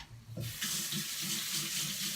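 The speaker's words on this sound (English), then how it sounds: "Wash those hands" Kitchen tap running steadily into a sink during handwashing, starting after a brief quiet moment and continuing as a constant close splash of water alone.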